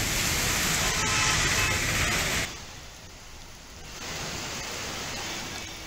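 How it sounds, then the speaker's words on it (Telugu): Heavy downpour over Hyderabad, a dense, steady broadband hiss of rain that drops sharply in level partway through, then rises again to a softer continuous wash, with no voices. "హైదరాబాద్ ప్రాంతంలో భారీగా వర్షం కురుస్తోంది"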